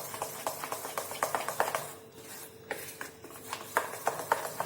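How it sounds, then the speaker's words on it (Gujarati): Bhajiya batter for bitter gourd fritters is mixed with baking soda using a spoon, giving a series of quick scraping clacks against the bowl in uneven bursts, with a short quiet pause midway before the mixing resumes. "બધું બરાબર મિક્સ કરી લઈશું."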